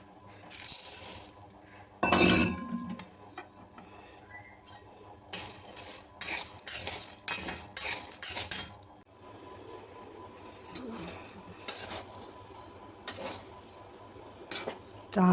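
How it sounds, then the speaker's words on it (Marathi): Lentils, grains, flattened rice, sago, coriander, carom and cumin seeds dry-roasting in a pan for chakli flour, bursts of loud rattling scrapes and clinks of utensil against metal, separated by quieter gaps. "चांगलं असं खरपूस चांगलं भाजून घ्यायचं"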